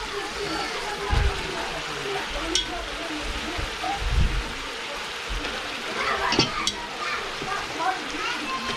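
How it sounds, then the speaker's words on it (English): Hamburger meat seasoned with onion soup mix sautéing in a pot with onions and garlic, a steady broad sizzle with occasional stirring scrapes and clunks, close and moderately loud. "And saute it."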